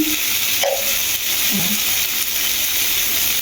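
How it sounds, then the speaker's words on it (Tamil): Onions with ginger-garlic paste fry in a pan, giving a steady close sizzle with a few faint stirring scrapes, continuous and fairly loud throughout. "பச்சை வாசனை போகிற அளவுக்கு நல்லா வதக்கிக்கலாம்"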